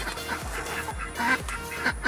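A farm duck being caught quacks in quick repeated bursts, five or so loud, close calls in about two seconds.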